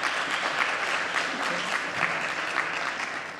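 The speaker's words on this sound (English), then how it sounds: "A little round of applause." An audience applauds panelists at a conference, a dense, even wash of clapping from many hands that holds steady and fades slightly at the end, with no speech over it.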